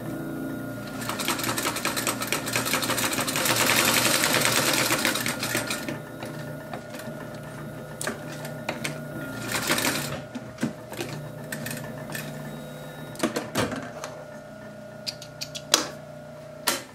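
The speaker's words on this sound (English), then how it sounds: "put the needle down, and then you're going to sew right over those stitches again" A sewing machine stitches a zipper onto a pillow cover panel, a fast continuous mechanical whir for the first few seconds, then stopping and giving way to scattered clicks, taps and short bursts of stitching.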